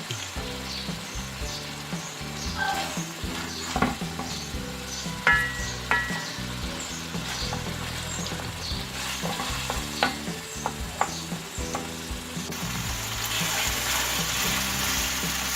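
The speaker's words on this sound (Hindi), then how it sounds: "अब अच्छी तरह से मसाला भून लेंगे।" Spiced tomato masala for keema kachnar frying steadily in a pan, with repeated scraping stirs and clinks of a spoon over a constant sizzle, close and moderately loud throughout.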